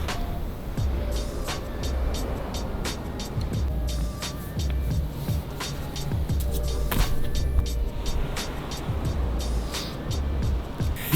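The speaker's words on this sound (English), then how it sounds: "So here's the freeway right behind me" Freeway traffic rolls past below a Tokyo rooftop as a constant rumbling roar of cars, with tires hissing and occasional louder passes, steady and fairly near.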